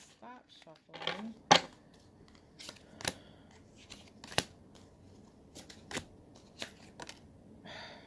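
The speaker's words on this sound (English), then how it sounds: "as soon as Spirit tells me I stop shuffling" Tarot cards are shuffled in quick, sharp riffles and snaps, each burst separated by short pauses, close and crisp, with someone talking quietly in between.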